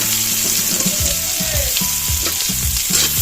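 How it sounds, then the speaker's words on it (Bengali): Onion and green chili fry in a pan with a steady, close hiss that runs the whole time, while stirring clatters at a regular rhythm. "পেঁয়াজটা একটু ভেজে নিয়ে আলুটা দিয়ে দেবো"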